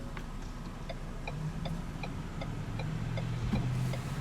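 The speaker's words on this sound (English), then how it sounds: "I'm going to go ahead and turn on the lights and the hazards." Hazard lights on a 2016 Ford Edge click in a steady, even rhythm inside the car, faint ticks over a low idling hum.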